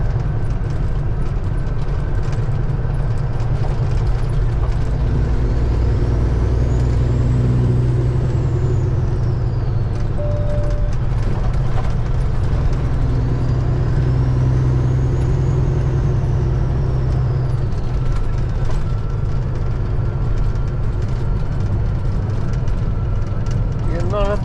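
Agricultural semi truck hauling fertilizer, heard from inside the cab with a deep steady engine drone and a hiss of air brakes while braking in traffic; someone talks over it.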